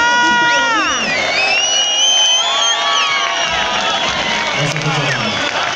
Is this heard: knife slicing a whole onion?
no